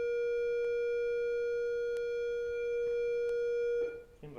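A school bell ringing as a steady, continuous electric tone held for several seconds at moderate loudness in a classroom, with faint clicks and a voice starting just as it ends.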